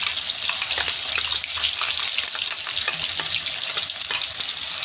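Ground wet masala frying in oil for a Latur-style patwadi rassa, a steady close sizzle with frequent sharp crackles and spoon scrapes running throughout without any voices.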